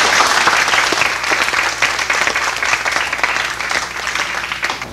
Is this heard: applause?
yes